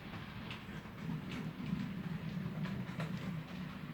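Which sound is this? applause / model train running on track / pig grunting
model train running on track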